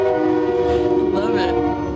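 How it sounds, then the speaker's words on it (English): A train horn sounds in long sustained harmonic tones under the steady rumble of a passing train, fairly close, with a person talking over it. "Come on through, train."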